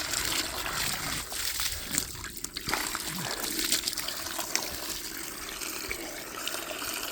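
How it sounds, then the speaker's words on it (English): Water running and splashing steadily while buckets are washed out on a pig farm at feeding time, a continuous close trickle and spatter with occasional clunks. "I'm just washing some buckets out right here"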